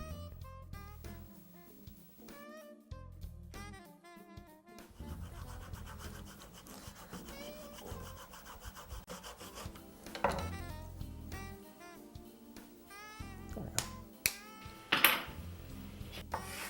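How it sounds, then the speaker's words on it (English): Edges of a plastic HO-scale model railroad structure kit being sanded flat, giving repeated scratchy rubbing strokes close by over continuous background music. "Be careful when you sand to make the edge perfectly flat or even slightly beveled to the inside."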